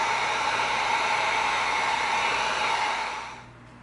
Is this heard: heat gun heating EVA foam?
yes